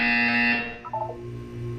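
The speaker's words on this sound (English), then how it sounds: "When you hear the buzzer, look down at the floor." A sustained electronic buzzer in the Portal 2 video game sounds for about half a second, followed by short tonal beeps and a low steady hum.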